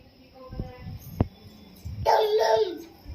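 A person imitates a dog's bark with a short, voiced "woof"-like sound after a few soft vocal noises, close and fairly quiet.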